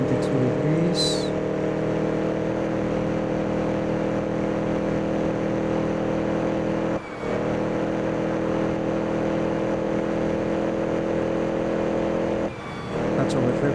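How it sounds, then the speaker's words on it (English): A 1933 race car engine in the Assetto Corsa racing game holds a loud, sustained high-revving drone, cut by two brief dips, with a voice talking over it. "That's over revving."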